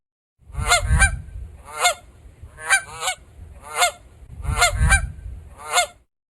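A goose honks six times at a fairly steady pace, each call loud, close and nasal over a low rumbling background.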